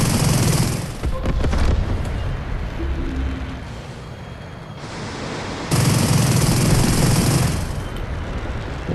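A jet aircraft in a combat video game fires rockets and guns, loud dense bursts of rapid fire and roaring engine noise that cut out around the middle and then return at full intensity, with no talking.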